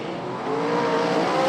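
Super Sedan race car engines roar steadily at close range at Archerfield Speedway under green flag, the droning pitch swelling louder as the cars accelerate.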